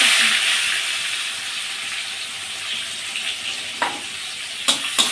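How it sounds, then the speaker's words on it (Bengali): Chopped onion and bay leaf fry in hot oil for a country chicken curry, giving a steady, close broadband sizzle that eases slightly, with a few light clinks of utensils near the end. "এবার দিয়ে দিব পেঁয়াজ কুচি।"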